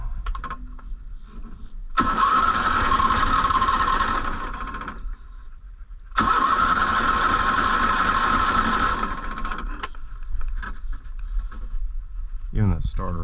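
A mud motor boat engine in a Texas marsh canal, suspected of a failing fuel pump, cranks on its starter in two long bursts of about three seconds each without catching, with close mechanical whirring and brief clicks and rustling between attempts.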